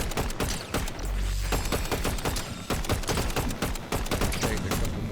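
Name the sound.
gunfire from Fortnite video game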